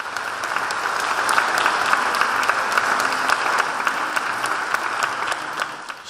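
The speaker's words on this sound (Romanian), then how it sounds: "Aplauze pentru Vlad Crețu." Audience applause at a book launch, a sustained, even round of many hands clapping that holds steady for several seconds before tapering at the end.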